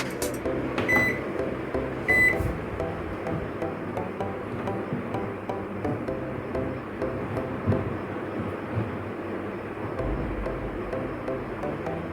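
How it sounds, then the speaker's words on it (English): A microwave oven hums steadily while cooking a red velvet cake, a continuous low mechanical drone with a couple of faint clicks near the start. "I am going to microwave it for 6 to 7 minutes."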